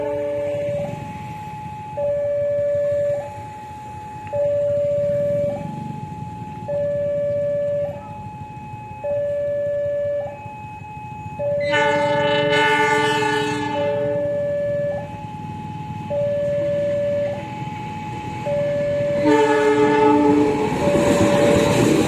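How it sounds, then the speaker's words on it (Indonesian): A long train passes a level crossing, where a two-tone crossing bell alternates steadily while the approaching locomotive blasts its horn twice, loud and close, over rumbling wheels. "Soalnya aku dengar klakson dari arah sana."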